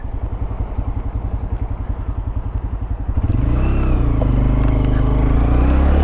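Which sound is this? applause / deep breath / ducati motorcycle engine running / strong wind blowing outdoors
ducati motorcycle engine running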